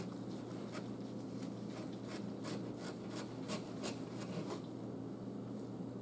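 A knife trimming a slab of wild hog bacon, close-up rhythmic rasping strokes repeating steadily over a low constant hum, fairly quiet and with no talking.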